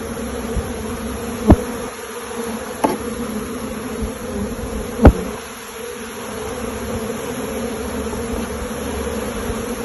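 Honey bees buzz steadily and close by at a hive frame on a honey bee farm, a constant droning hum broken by a few sharp knocks.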